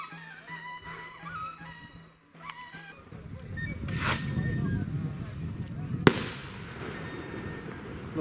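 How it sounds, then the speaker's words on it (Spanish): Festival firework rockets burst at a patron saint fiesta for the Señor de San Cristóbal, with crackling pops, a sharp bang and rolling rumble, while a brass melody plays and distant voices carry underneath. "Los cohetes siguen sonando, siguen retumbando en señal de alegría"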